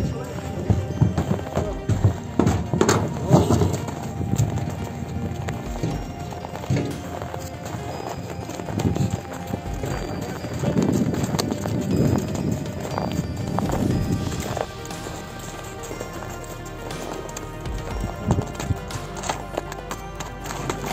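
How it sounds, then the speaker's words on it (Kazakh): Horses arriving at an ulak (goat-polo) game, hooves clip-clopping in uneven bursts with an occasional whinny, while people talk over them outdoors. "Аттары келип атат, мыкты аттар."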